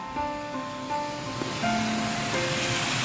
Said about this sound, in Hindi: इधर से डैम का पानी कल कल कल कल कल कल बह रहा है